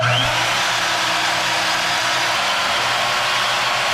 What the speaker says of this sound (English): Let me turn on my professional bandsaw here.